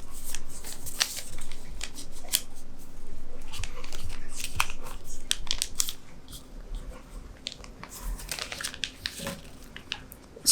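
Paper being folded by hand into an origami ninja star, with close crinkling, creasing and rustling in irregular bursts, quieter toward the end.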